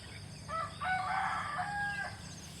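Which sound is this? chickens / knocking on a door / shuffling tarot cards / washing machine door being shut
chickens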